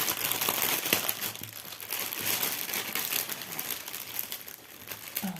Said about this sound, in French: je vais ouvrir pour vous montrer en quoi consiste ce kit